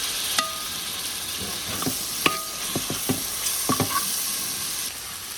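Tomatoes crackle and sizzle in a hot pan as a spoon stirs them, giving a constant frying hiss with a string of close, crisp taps and scrapes against the pan.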